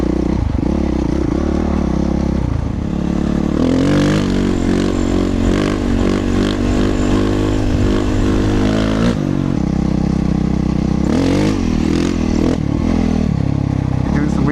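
A dirt bike engine drones loud and close while the rider crosses ice, the revs rising and falling with clattering and scraping, and a voice talks over it.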